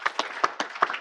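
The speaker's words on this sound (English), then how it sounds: "Let's give them another big round of applause." Sharp individual claps, about seven of them in quick irregular succession, greet a girls' team at a city council meeting, sounding like a small nearby group applauding briefly in a quiet hall.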